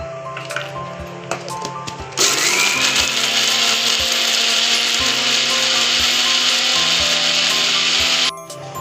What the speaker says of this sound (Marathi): मिक्सरला मिरची बारीक करू.